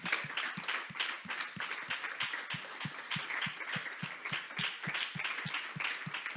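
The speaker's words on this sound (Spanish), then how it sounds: "Dale un aplauso al Señor." A church congregation claps in a steady, rhythmic beat at a Sunday service, the quick even claps running throughout over a low pulsing thump.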